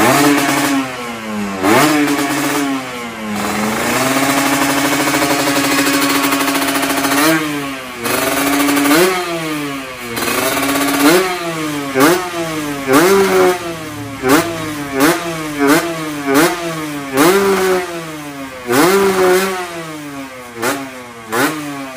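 A Kawasaki Ninja RR two-stroke motorcycle with an aftermarket exhaust revs up close. There is a long steady hold first, and then a series of sharp rising blips and quick drops.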